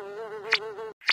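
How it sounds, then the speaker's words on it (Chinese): A cartoon-style sound effect of flies buzzing: a steady, wavering nasal drone holds for almost a second, broken by two short bright bursts, alone with no talk. "蜂蜜流了出来，苍蝇们赶快飞过来，"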